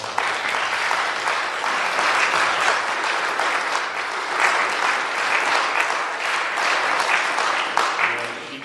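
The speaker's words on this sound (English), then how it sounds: "Let's give them a round of applause." A church congregation applauds steadily for the whole stretch, a dense wash of many hands clapping at an even level, with no pauses.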